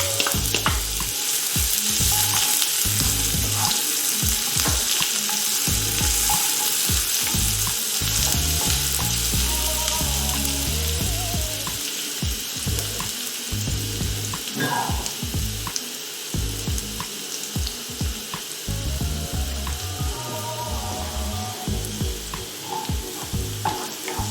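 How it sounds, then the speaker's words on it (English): Onions fry in an oily pan used for sweet and sour meatballs, with a dense, continuous sizzle and frequent stirring scrapes that stay loud and close for the whole stretch. "in the same pan, we are going to fry our onions until they are soft and translucent"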